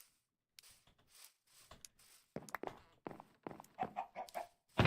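Several chickens cluck in a Minecraft Skyblock world, a run of short, irregular clucks and squawks that grow busier and louder toward the end, close and clear with no talk over them.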